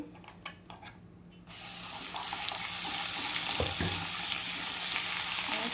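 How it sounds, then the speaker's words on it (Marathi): Spice masala roasting in hot oil for a jackfruit curry, a loud steady sizzle that bursts in suddenly after some light kitchen clinks and keeps frying evenly, with occasional stirring scrapes. "तर हा मसाला याच्यामध्ये टाकून घेते आणि छान आता तेलामध्ये भाजून घेते।"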